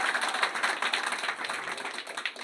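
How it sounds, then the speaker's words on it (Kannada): Village audience at a farmers' cooperative society felicitation ceremony applauding honoured elders, a continuous patter of many hands clapping at moderate loudness, steady throughout with slight swells. "ಅವರಿಗೆ ಜೋರಾಗಿ ಚಪ್ಪಾಳೆ ನೀವು ಹೊಡಿಬೇಕು ಮೊದಲು"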